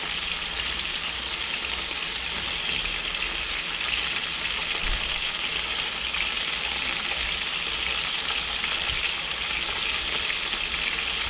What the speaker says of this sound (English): The reason why I'm frying it up like this is because that side is not done.